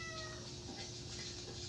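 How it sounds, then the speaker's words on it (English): A cat meows indoors, faint and brief, a short tonal cry over a quiet room hum with no talking. "You hear him meowing? He's a huge meower."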